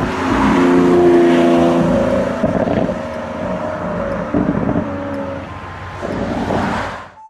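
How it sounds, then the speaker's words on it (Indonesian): Engine roar played by a Lamborghini toy car, a loud revving car sound with rising and falling tones and several surges, ending with an abrupt cutoff. "Di sini ada mobil Lamborghini."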